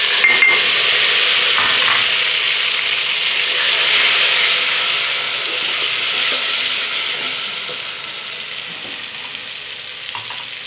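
Ghee heating in a pan on a stove, hissing and sizzling loudly and continuously up close, easing slightly in intensity over time, with occasional faint clicks and no talking.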